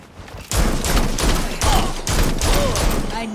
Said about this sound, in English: I'm about to shoot!